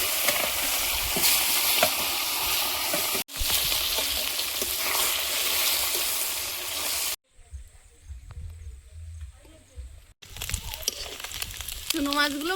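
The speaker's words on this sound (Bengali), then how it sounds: "মাছগুলো ভাজা হয়েছে তুলে নিচ্ছি এবার চুনো মাছগুলো ভেজে" Loud, continuous sizzling of small freshwater fish frying in hot oil, broken by a brief quieter stretch before the crackle resumes.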